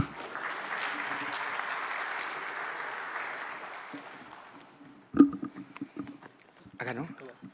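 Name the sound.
audience applause at a labor law congress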